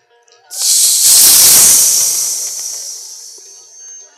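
A performer mimics the jingle of ankle bells with the mouth: a single sustained, airy hiss that swells in sharply, holds, then trails off softly, over quiet background music.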